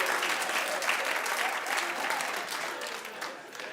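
A comedy-club audience bursts into clapping mixed with laughter, a dense, loud, continuous patter of hands that holds for a few seconds and then eases slightly toward the end.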